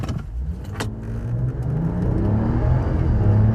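A 2026 RAM 1500 pickup with a HEMI V8 and 8-speed transmission accelerates hard, its engine note rising steadily in pitch and loudness over a few seconds, close and continuous with no talk.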